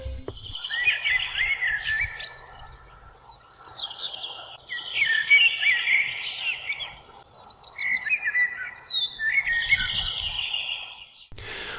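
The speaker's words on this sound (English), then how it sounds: "where the singing birds made up for the cloudy sky" Birds singing on a cloudy summer morning in Aleje, bright chirping phrases repeating close by over a steady lower croaking chorus, with no talk.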